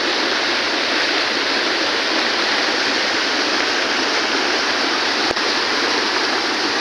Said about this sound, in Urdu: یہ پانی ہے